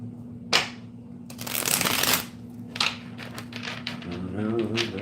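Tarot cards being shuffled close by, with riffling bursts and quick flicks that come in uneven clusters, while a voice sings faintly toward the end.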